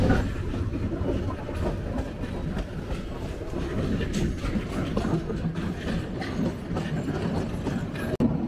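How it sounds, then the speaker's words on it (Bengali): The Chattala Express pulls out of Feni Junction, a steady rumble of rolling carriages with rhythmic clickety-clack of wheels on rail joints, loud and close from inside the train. "নির্ধারিত সময় থেকে প্রায় 11 মিনিট বিলম্বে আমাদের ট্রেন ছেড়ে বের হচ্ছে ফেনী জংশন"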